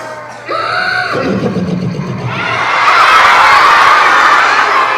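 A voice imitates a horse's neigh, a rising whinny that breaks into a rough, snorting shake, followed by a loud, breathy blast of air.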